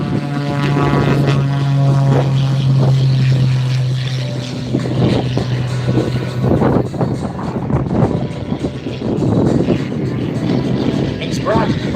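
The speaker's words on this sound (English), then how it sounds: "We're going to be seeing this renowned aviator perform a display of this unique red, white, and blue aircraft clearly on the takeoff roll down." Red, white and blue display aircraft at an airshow revving its engine on the takeoff roll, a loud droning propeller tone with steady harmonics, while an announcer speaks over it.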